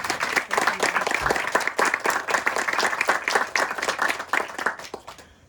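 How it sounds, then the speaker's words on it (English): Audience at an outdoor park ribbon-cutting claps, distinct individual hand claps forming a lively, fairly close round of applause that fades out at the end. "If you could give her a round of applause."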